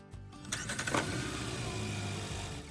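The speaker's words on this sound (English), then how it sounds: "this car had a pretty interesting remote starter system" Car engine cranking and catching under a remote starter, a brief whirr of the starter followed by a steady mid-pitched idle settling in close by.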